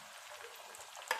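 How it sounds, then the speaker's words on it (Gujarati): Potato spring rolls coated in breadcrumbs fry in hot oil, giving a faint, steady, crackling sizzle that stays quiet through the clip. "આ રીતે બ્રેડ ક્રમ્સમાં ડબોળીને આ રીતે તળી દઈશું."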